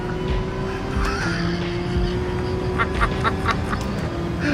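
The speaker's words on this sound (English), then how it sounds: "All I can hear is cars squealing and like smashing into things." Race cars in Gran Turismo 7 roar in a continuous engine drone with faint tire squeals rising briefly, a busy racing mix without clear distinct crash impacts.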